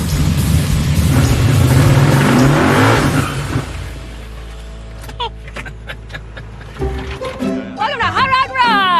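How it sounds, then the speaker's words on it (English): A hot rod car revs its engine hard through a burnout, a loud sustained roar for the first few seconds, then dropping to a lower idle while voices talk over it. "I'll do a burnout, and then I'll get out, and she'll do a burnout"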